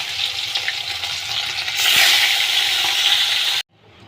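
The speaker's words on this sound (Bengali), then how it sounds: "এবার আমি তেল গরম করতে দিয়েছি, মাছগুলো আমি ছেড়ে দেবো।" Bhetki fish pieces fry in hot oil, giving a loud, close, continuous sizzle that swells stronger partway through, then stops abruptly into near quiet.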